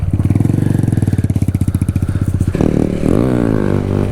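A Honda Grom Z125 small motorcycle engine putters in a fast, steady idle pulse close by, then revs up abruptly into a rising, buzzing whine.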